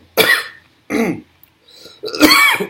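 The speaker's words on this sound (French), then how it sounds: "Faut tousser un petit peu." Three harsh coughs close up after vaping, separated by short pauses, the last one longer and rougher.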